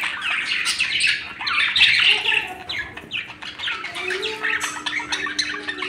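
Pet budgies in a cage squawking and chirping, a loud, busy overlapping flock of sharp calls and twitters close by, continuous with no talking.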